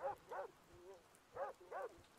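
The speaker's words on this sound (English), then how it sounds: "Someone's dog is popping off." A dog barks a few times in the background, faint and distant, in short spaced bursts over low ambient noise.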